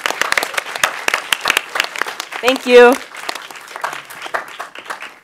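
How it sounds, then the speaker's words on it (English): An audience at a presentation party gives a round of applause, a dense patter of hand claps lasting the whole stretch, with a voice speaking briefly over it midway. "So let's give a round of applause to them."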